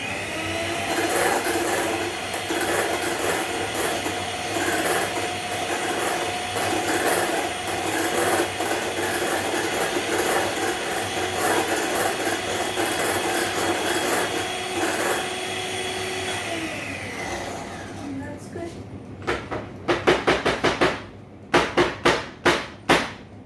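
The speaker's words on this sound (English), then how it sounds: "I'm blending this now at a speed which is like a medium high," Electric mixer with whisks whirring steadily at medium-high speed through vanilla sponge cake batter made with ghee, a constant motor drone that cuts off and gives way to a run of sharp taps.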